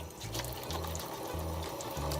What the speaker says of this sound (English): be sure that we're washing our hands with soap and water before we get started in the kitchen